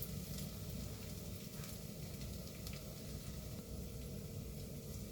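Pork belly, fish cake and meatballs sautéing together in a pan, giving a steady, dense sizzle that runs evenly throughout with no voices.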